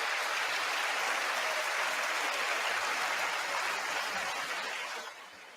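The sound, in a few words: applause at State of the Union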